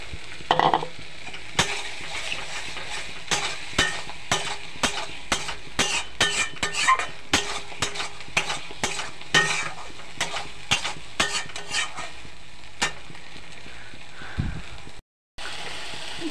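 An egg sizzles in a pan of spinach curry as a spatula scrapes and taps through it in a steady run of sharp strokes over a continuous fry hiss.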